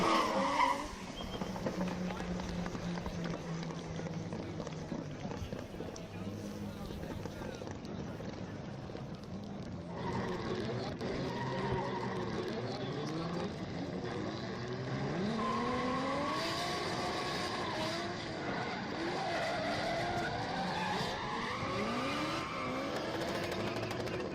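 Drift cars at the 2023 R2 King of Drift event slide across asphalt, with continuous tire squeal and revving engines under steady commentary throughout.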